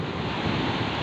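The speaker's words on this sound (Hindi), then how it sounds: "ये देखिए समुद्र का लहर। और मस्त हवा चल रही है।" Sea waves and strong wind at Bandra Bandstand on the Mumbai shoreline make a steady, loud roar of surf and gusting air, with wind buffeting the microphone throughout.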